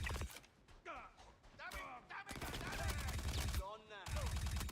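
Automatic gunfire in the video game Star Citizen, with bursts of rapid shots and mechanical clatter, separated by brief pauses and mixed with faint voice-like game sounds.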